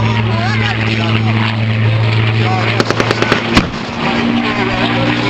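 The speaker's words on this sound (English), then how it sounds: "the Spitfire is covering this area" Spitfire aircraft flying over an air show, a loud, steady propeller engine drone heard close and continuous, with a brief cluster of sharp pops partway through.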